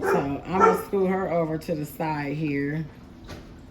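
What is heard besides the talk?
dog barking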